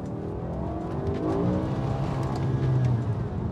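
A BMW E60 M5 with a seven-speed SMG gearbox and mechanical limited-slip differential is driven hard through a run of road corners, its engine note close and loud as it climbs and eases in pitch with the throttle, with no talking.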